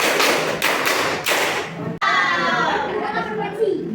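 Fourth-grade pupils in an Indonesian primary school classroom clap in unison during a counting icebreaker, a few sharp group claps landing in quick succession, followed by a softer stretch of children's chatter and movement.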